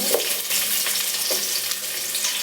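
Onions and cumin seeds fry in hot oil for a vegetable pulao, giving a loud, close, unbroken sizzle with soft stirring scrapes every half second or so, and no voices.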